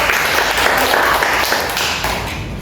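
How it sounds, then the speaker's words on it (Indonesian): Students clapping together in a classroom guidance lesson, a loud, close, continuous patter of hands that holds steady, then eases slightly toward the end. "Oke, beri tepuk tangan juga untuk"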